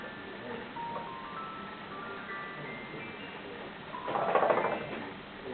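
Voice 707 on a lime green Casio SA-46 keyboard, a bright glockenspiel-like tone playing a short run of bell notes that climb and fall, followed by a brief louder cluster of chimes.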